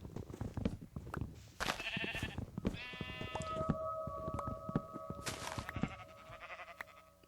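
Sheep bleat in a tornado survival video game, with repeated close bleats over a rapid run of clicking and tapping game sounds and a sustained tonal hum.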